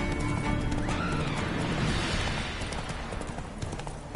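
A horse gallops in The Witcher video game, its hoofbeats fast, steady and close amid dense, loud game ambience throughout.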